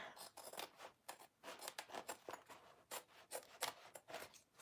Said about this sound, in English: I'm just gonna trim this foam right here